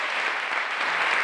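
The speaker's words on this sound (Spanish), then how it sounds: "Aplausos con la aprobación de la ley" Applause rings through a parliament chamber as a law is approved, a steady and dense clatter of many hands clapping together from a moderate distance.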